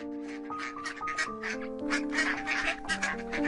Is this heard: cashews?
no